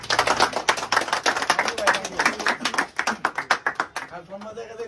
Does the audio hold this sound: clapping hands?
yes